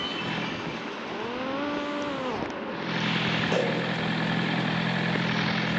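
Car engine idling in the driving game Driving Empire, a steady low hum running throughout with a brief rising and falling whine of revs near the start.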